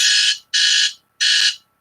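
An electronic alarm going off indoors, three loud harsh buzzing bursts each about a third of a second long with short gaps between, close and alone.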